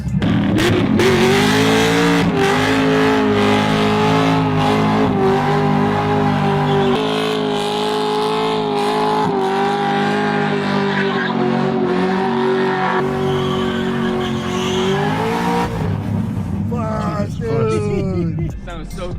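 A car doing a burnout roars at high revs with tires squealing continuously, loud and close, while excited voices talk over it.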